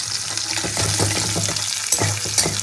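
Chopped taro (kochu) fries with green chillies in a pan, a steady loud sizzle with stirring scrapes running throughout, no talk.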